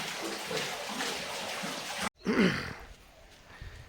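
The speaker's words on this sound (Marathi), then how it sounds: "इथे पाणी भरत आहेत" Water splashes and gurgles as it is drawn from a rock-cut stone cistern at Sinhagad Fort, a steady outdoor wash of sound broken by a brief pause, then a closer burst of pouring.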